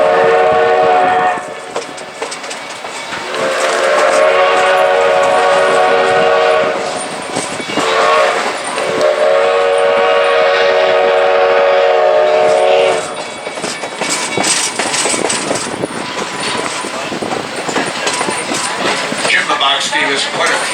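The 1880 Train passing a railroad crossing near Hill City, South Dakota, sounds its horn in two long loud blasts, followed by rhythmic clattering of the cars rolling by close at hand.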